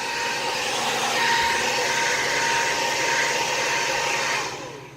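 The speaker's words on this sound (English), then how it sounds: "take your hair dryer," A hair dryer runs continuously while being used to heat and peel old wallpaper, a loud steady whir with a high whine that holds for several seconds before easing off.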